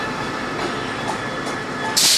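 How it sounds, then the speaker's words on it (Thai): A train rolls steadily past Muak Lek station with a continuous loud rumble and hiss throughout, ending in a sharp high-pitched squeal or burst. "ไม่รู้ว่าจะต้องจอดแค่ที่สถานี มวกเหล็ก รอรถไฟ"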